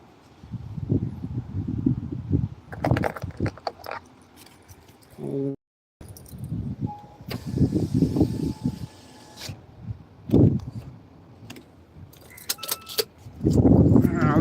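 Car keys jangle in bursts as a car is locked near the Diu seaside, with wind buffeting the microphone and brief low rustling between the metallic clinks.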